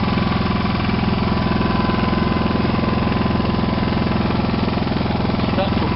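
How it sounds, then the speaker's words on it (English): A Kipor Sinemaster 6000 generator engine runs nearby with a loud, steady, rhythmic chugging drone that holds unchanged throughout, with no pauses. "Well, there you go, there's one generator going."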